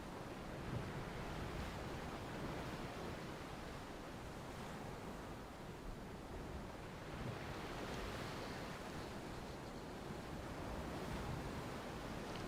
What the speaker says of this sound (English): And yes, Ellie, the waves sound beautiful here.